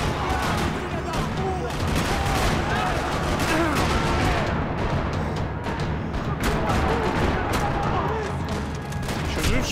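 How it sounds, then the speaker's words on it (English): Sustained gunfire rattles through a parking lot in the Max Payne 3 video game, with dense overlapping shots and automatic bursts under a loud, continuous battle din with no pauses. "Another parking lot rattling with gunfire."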